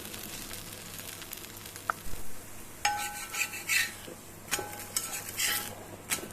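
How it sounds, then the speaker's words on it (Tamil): Ragi adai shaped like a rose, patted round and cooking on a dosa griddle with oil poured around it: a steady sizzle runs throughout, broken by sharp metallic clinks and scrapes of a utensil against the griddle. "ரவுண்டாக தட்டி கல்லில் போட்டு எடுத்துக்கோங்க சுற்றி கொஞ்சம் எண்ணெய் விட்டுக்கோங்க"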